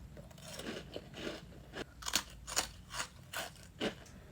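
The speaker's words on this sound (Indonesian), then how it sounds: "Ini cookiesnya renyah banget." Crunchy cookies drenched in chocolate are chewed close to the mic, giving a steady run of sharp, dry crunches about every third of a second, with no talking.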